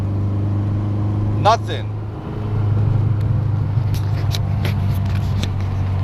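Peugeot 205 1.9 Rallye engine on a test drive after driveshaft and wheel bearing replacement, a steady low in-car drone that swells slightly as it accelerates, with a brief voice early and scattered ticks over the hum.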